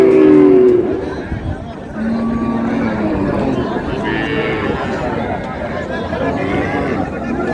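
Cattle at a rural livestock market, a cow with a young bull calf, mooing close by amid steady crowd chatter and people talking.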